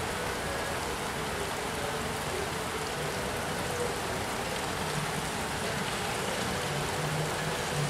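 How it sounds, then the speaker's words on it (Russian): Steady rain falling on Brivibas street in Riga, an even, unbroken hiss of drops at moderate level with no talk. "На улице дождь."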